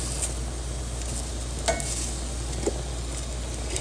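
Tomatoes cook on a hot pan while preparing red taqueria-style salsa, giving a steady, soft sizzle throughout with a couple of brief clinks or stirring taps.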